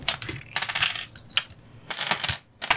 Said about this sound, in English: Peel off the caps.